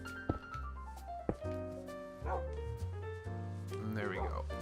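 Minecraft dogs bark and yip several times in irregular bursts, with some whimpering, heard over game music and sound effects.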